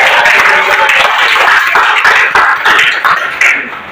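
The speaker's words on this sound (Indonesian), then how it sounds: "tepuk tangan lagi untuk Ibu" Loud, dense audience clapping at an event, a continuous wash of many hands with a few sharper claps standing out near the end.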